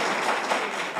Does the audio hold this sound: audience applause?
yes